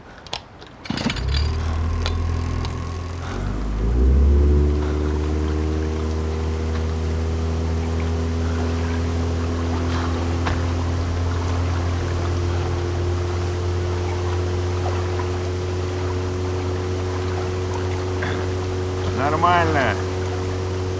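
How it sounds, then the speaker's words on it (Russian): A boat's outboard motor runs steadily on open water off Vladivostok, a low droning hum with harmonic tones that swells near the start and holds constant, with a brief rising whine near the end. "Все, дальше на моторе пойдем."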